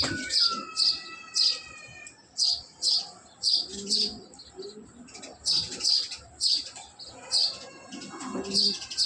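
Racer pigeons give repeated coos in a steady series of rising calls, close and fairly clear, with soft chirps and faint rustling between them.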